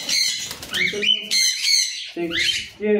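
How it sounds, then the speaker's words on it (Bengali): Loud, harsh cockatiel squawks repeat in quick succession, close up, with shrill screeching calls and some flapping. "ককটেল পাখি।"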